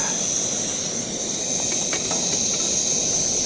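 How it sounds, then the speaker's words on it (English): A steady, loud hiss of a camping stove's blue gas flame runs unbroken throughout at a winter campsite, close to the microphone, with no talking. "Get that nice hot blue flame going there."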